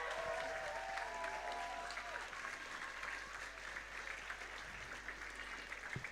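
Crowd applause for the organisers at Boulderfest 2025, a bouldering competition weekend, with steady clapping sustained across the whole stretch at moderate loudness and a few background voices mixed in.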